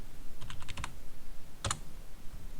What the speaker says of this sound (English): So in the terminal again, type source, then set, press tab